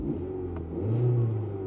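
A 2002 VW Sharan's 2.0 petrol engine idles with a low, steady hum, then briefly revs up and settles back, heard close and moderately loud.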